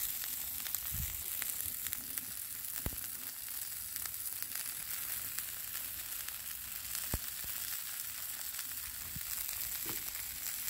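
Hash brown cakes fry on a Blackstone griddle at breakfast, giving a steady, soft sizzle with faint crackles and a few sharp clicks from a spatula or the griddle.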